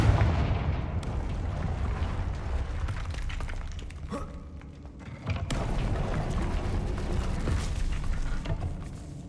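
Booming explosive blasts of the Confringo fire spell in the Hogwarts Legacy video game, heavy bursts and rumbling impacts rolling through the scene with a brief lull before another loud blast.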